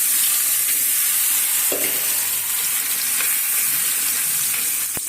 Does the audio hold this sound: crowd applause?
no